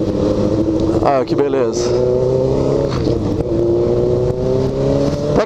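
Cars and motorbike engines hum and rev close by on a rainy city street as vehicles cross and pass, a steady drone under a brief spoken exclamation.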